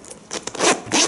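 Zipper on a Giuseppe Zanotti women's beige calf suede mid-top sneaker being pulled in one smooth, close run of quick ripping zip sounds lasting about a second, with no talk.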